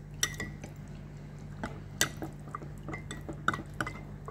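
A spoon stirs a tablespoon of cornstarch with water in a container for corn soup, making soft scattered clinks and light scraping taps at an uneven pace over a faint steady hum.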